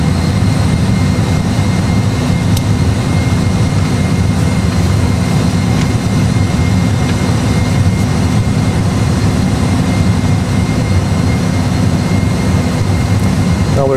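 Airbus A320 jet engines at climb thrust while accelerating, a loud, steady low roar and rumble heard continuously from inside the aircraft, with no talking.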